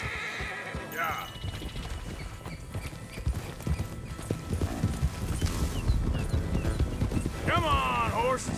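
Galloping horses in the video game Red Dead Redemption 2: rapid hoofbeat clip-clop with sharp neighs and whinnies near the start and end, while voices shout excitedly over the ride.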